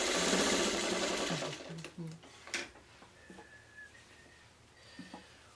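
A home sewing machine stitches a final seam on a fabric project, a loud rapid mechanical whir for about two seconds, then a few short bursts and clicks as a person speaks quietly.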